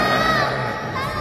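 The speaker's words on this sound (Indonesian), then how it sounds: "Mereka mulai berlarian, berteriak." Young cartoon goats scream and shriek together as they run, a loud, continuous chorus of high wavering cries with no spoken words.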